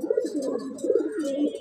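A male racing pigeon of Budapest stock coos close by in a few rolling, throaty bursts, each swelling and fading in a soft repeated rhythm.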